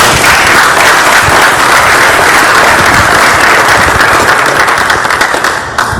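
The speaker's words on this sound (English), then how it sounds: "How about another round of applause here?" A conference audience at an education session bursts into loud, dense applause that holds steady for several seconds before thinning out at the end.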